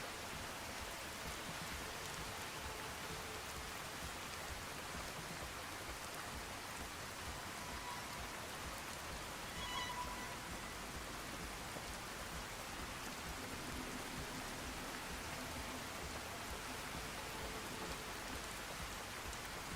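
Steady rain falls across a wasteland outdoors in Fallout: New Vegas, a soft continuous hiss of drops on the ground that stays even and moderately quiet throughout, with no talking.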